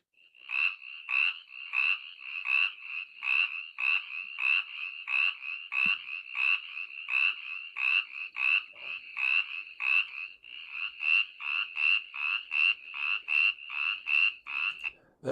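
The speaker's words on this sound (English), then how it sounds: "Spotted chorus frog, Pseudacris clarkii." A spotted chorus frog (Pseudacris clarkii) calls in a long, steady train of rapid, evenly spaced trilled pulses, close and clear against a quiet background.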